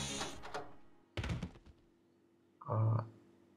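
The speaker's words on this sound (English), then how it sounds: "the door made a loud sound and shut behind us" A door slams shut in the horror game Otogirisou: Rebirth, with a few short, hollow thuds spaced apart against near silence, the last one the heaviest.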